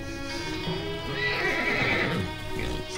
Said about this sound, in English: Mares coming from miles away.